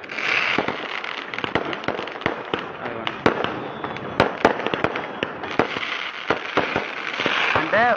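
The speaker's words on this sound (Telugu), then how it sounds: "ఇక్కడ ఎలా బాణసంచాలు కాలుస్తున్నారు వైసీపీ వాళ్ళు" Firecrackers set off on a road in Narsipatnam, a rapid barrage of sharp, loud bangs and crackles close by, continuous over a noisy outdoor crowd.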